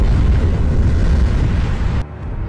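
A massive explosion destroys a hospital in a Batman film, a dense roaring blast that fills the scene for about two seconds before cutting off abruptly.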